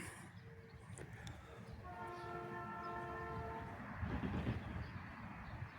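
A CN local train approaching a crossing in Richmond, Michigan sounds its horn in one long steady blast, loud enough to be heard over the rumble of cars passing, as heard by a phone.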